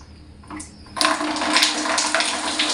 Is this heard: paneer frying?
no